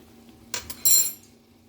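A utensil stirring tomatoes sautéing with sugar in a pan: a few sharp metallic scrapes and clinks, the loudest a bright half-second scrape, over a faint background hum with no talking.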